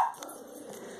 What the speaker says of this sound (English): You can hear the dog being annoying in the background here.